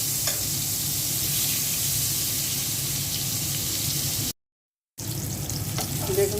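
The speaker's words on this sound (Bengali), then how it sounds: "বেগুন ভাজাটা উল্টে দিচ্ছি।" Fried eggplant slices are turned over in a frying pan amid a continuous, close sizzling hiss, with one brief silent gap and a small clink near the end.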